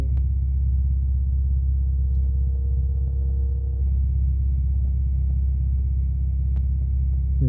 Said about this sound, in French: Et là, tu glisses pour les essais moteurs.